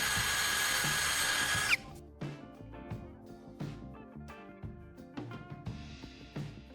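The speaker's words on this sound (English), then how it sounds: "I'm drilling a hole on the opposite side" A power drill whines steadily while drilling a hole in wood for a knife-sharpening rod, then stops, followed by scattered clicks and knocks of handling tools and wood.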